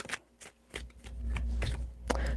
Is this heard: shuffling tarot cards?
yes